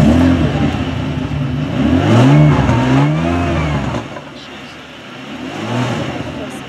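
A Ferrari at a Northern Ferrari Day car show starts up and revs hard, its engine note rising and falling in loud surges close by, then dropping to a lower idle before climbing again.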